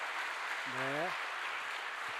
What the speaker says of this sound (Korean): 두 분 박수로 여러분